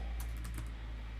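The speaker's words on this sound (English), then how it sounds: "I'm typing real bad this morning." A short burst of quick keystrokes on a computer keyboard, close and clear, a handful of light clicks in rapid succession over a low background hum.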